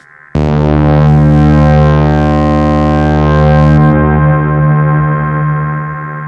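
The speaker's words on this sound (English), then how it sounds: "a drone patch, is to turn on the delay with a medium to long delay time, a high feedback, high mix" A Behringer TD-3-MO synth drone runs through delay, reverb and distortion pedals, holding a loud, sustained buzzing tone that starts abruptly, stays steady for several seconds, then thins as the delay tail carries on.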